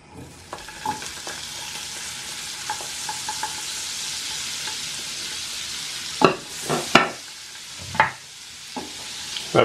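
Onions fry in a pan with butter, a steady close sizzle that runs on alone, followed by several louder scraping stirs toward the end.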